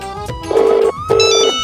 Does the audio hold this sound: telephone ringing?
yes